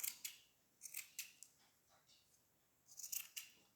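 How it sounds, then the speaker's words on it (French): Scissors snip through pompom yarn in short crisp bursts, a few quick cuts near the start, more around one second and another cluster near the end, close and fairly quiet. "avec le ciseau, en fait, vous faites la coupe du pompon que vous désirez"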